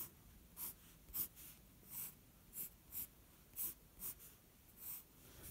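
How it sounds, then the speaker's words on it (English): A pencil sketches a cube on paper in a run of short, rhythmic strokes, each a brief scratchy swipe about half a second apart, close and fairly quiet, with no talk. "if I just quickly draw a cube on here"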